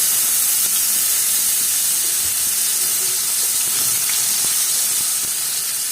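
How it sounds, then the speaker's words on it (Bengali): Chopped onions hit hot oil left from frying fish and hiss into a steady, loud, broadband sizzle that holds evenly throughout with no talk. "তো এবার পেঁয়াজ দিয়ে দিব এই তেলে।"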